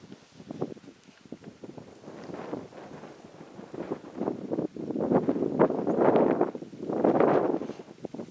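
Wind buffets a microphone outdoors on a back step, a loud low rumbling roar that swells and gusts in uneven waves, growing stronger toward the end.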